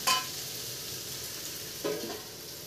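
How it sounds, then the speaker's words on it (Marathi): Okra (lady finger) sautéing in a pan gives a soft, steady sizzle close by, with two brief scraping stirs near the start and near the end, no talk. "आता हे पण छान असं परतून घेऊ."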